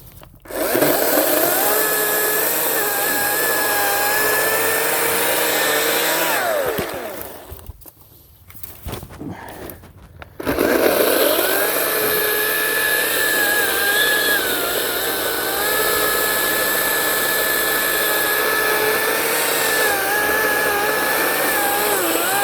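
A Ryobi 18-inch 40-volt cordless chainsaw cuts through solid wood, its loud steady whine running continuously, easing briefly mid-cut before resuming at full strength, with no clear talk.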